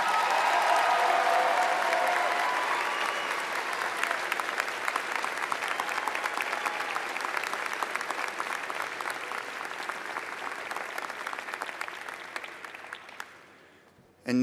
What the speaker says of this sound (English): Can we give them another huge round of applause?